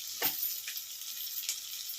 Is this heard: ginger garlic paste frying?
yes